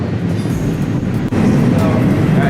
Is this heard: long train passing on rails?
yes